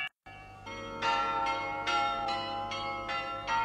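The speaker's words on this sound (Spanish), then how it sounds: "esos que se pueden oír en las torres de las catedrales de Bélgica, en donde todavía se tocan los carrillones" Carillon bells ring from a Belgian cathedral tower in a slow sequence of about seven resonant strikes, each note ringing on as the next sounds, loud and alone.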